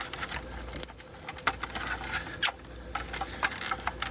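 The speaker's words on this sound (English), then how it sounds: "now I'm just peeling this out of here using a flat blade screwdriver as an assistant" A flat blade screwdriver prys trim loose, giving close, scattered scratchy clicks and small snaps at an uneven pace.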